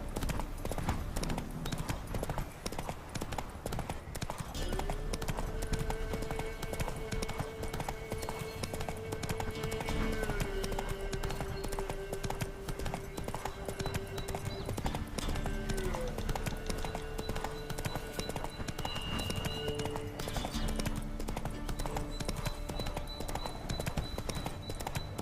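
Horse hooves clip-clopping at a steady trot in The Witcher 3, a continuous rhythmic patter under game music with a brief spoken voice.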